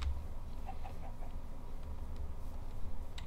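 Minecraft chickens cluck softly in short, scattered bursts over a low background hum, faint and close with no talking.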